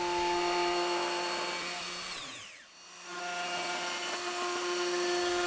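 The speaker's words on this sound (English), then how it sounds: "make about 3 or 4 passes with this small router bit before I need to swap it out to a larger router" A router with a small bit cuts a wooden coffee table, a steady high whine that dips and softens midway as it passes along the wood, then returns to full loudness, close and continuous.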